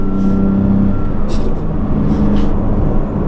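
A 2022 Porsche GT3 Touring revs its engine as it struggles to pull away from first gear at a cars and coffee meet, a loud steady drone with a low held tone near the start, alone without talk.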